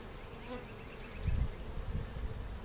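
A steady hum of buzzing honey bees at a hive fills the air, with low fluttering swells as bees move close by; no voices.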